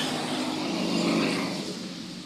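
Heavy road traffic on a congested commute, a steady broadband wash of car engines and tire noise with a low rumble, continuous and fairly close throughout.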